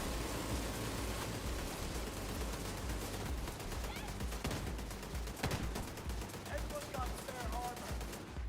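Steady rapid gunfire from The Division 2, a dense continuous rattle of shots with game effects layered over it for the whole stretch, with a player speaking now and then underneath.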